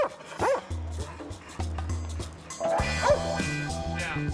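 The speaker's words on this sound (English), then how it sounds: "German Shepherds make excellent police dogs because they're strong, smart, and highly trainable." German Shepherd police dogs bark repeatedly at close range, mixing sharp barks with yips and whimpers in an uneven, excited rhythm.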